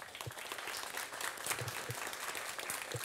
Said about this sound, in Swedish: tackar panelen med en varm applåd